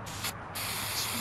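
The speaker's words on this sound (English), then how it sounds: "Oh god, spray paint. Spray paint!" Spray paint hissing onto a wall in the video game Saints Row 2, a loud, close, continuous burst that cuts out briefly and then resumes, with no talking.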